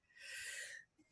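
A single person's sneeze, one sharp breathy burst with a hissy rush of air lasting under a second, fairly close and quiet, followed by a faint exhale.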